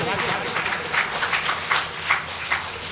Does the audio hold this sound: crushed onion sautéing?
no